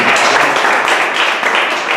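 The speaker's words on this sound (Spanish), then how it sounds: "Denle un aplauso al Señor." Church congregation applauding during a worship service, a brief steady wash of many hands clapping together, loud and dense throughout.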